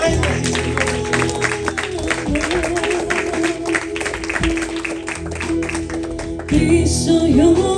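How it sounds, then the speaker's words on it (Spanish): A church congregation claps in praise during a Spanish-language worship service, with quick rhythmic claps over sustained music and some voices, and the band grows louder near the end. "Dale un fuerte aplauso al Rey de Reyes"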